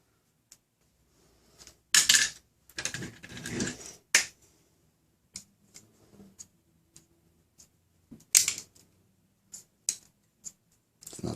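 A small cutter knife slicing through the plastic dart posts inside a Claw Hunter blaster, giving sharp, close clicks and snaps in scattered bursts with quiet gaps between them.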